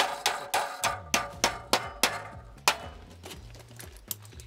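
A hammer taps blue plugs into drilled holes with a steady series of sharp metallic knocks, about two per second, that gradually soften and fade.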